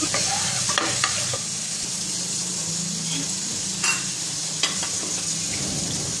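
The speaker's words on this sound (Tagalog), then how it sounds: "Maggigisa lang tayo ng 1 head na minced na garlic" A whole head of minced garlic sautéing in butter in a pan, a steady close sizzle with occasional stirring scrapes.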